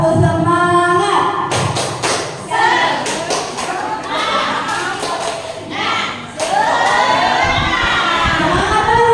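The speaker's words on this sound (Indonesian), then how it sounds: "Tepuk semangat." A group stands and performs a rhythmic 'tepuk semangat' spirit clap at a teachers' workshop session, loud bursts of clapping in a patterned beat mixed with voices and chanting.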